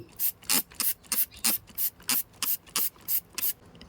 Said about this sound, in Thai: แล้วก็ฉีดพ่นไปเลย